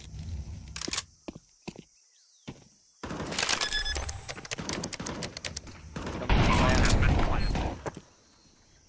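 Gunfire in a competitive shooter match: sharp bursts of rapid shots in separate clusters, with quiet gaps and a dense volley near the end, heard close and loud alongside game effects.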